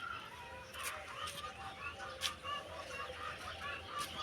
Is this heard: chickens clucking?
yes